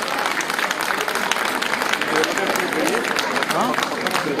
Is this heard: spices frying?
no